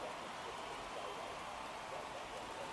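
Steady rain hisses through a race in the video game F1 2017 at the Australian Grand Prix, a soft, even wash of drops with no voices.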